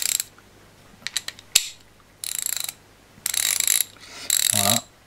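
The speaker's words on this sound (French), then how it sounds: "C'est une clé à cliquer 36 dents, mais c'est donc assez bruyant." A 36-tooth ratchet wrench clicks in quick bursts: a few sharp separate ticks, then longer rapid clicking runs, close and fairly loud with no talking.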